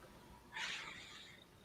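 A single faint cat meow rises briefly out of a quiet room background.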